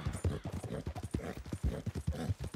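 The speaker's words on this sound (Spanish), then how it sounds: "Galopar hace que la resistencia del caballo se agote." Horse galloping in Red Dead Redemption 2, a steady run of rapid hoof clip-clops at close range, loud and continuous across the whole stretch, with no talking over it.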